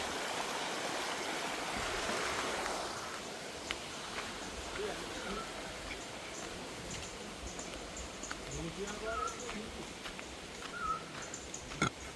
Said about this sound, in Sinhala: මේ පැත්තේ වතුර පාරක් ගලගෙන යනවා.